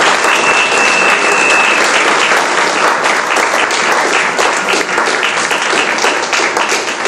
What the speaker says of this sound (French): Est-ce qu'on peut acclamer le Seigneur Jésus? On peut acclamer Jésus.